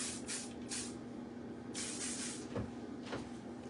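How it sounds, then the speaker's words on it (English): A large can of Kenra Perfect Medium Spray medium-hold hairspray gives several short, close hissing sprays in irregular bursts, some quick and some a little longer, with a soft knock between them. "This is the Kenra Perfect Medium Spray, Medium Hold Hairspray."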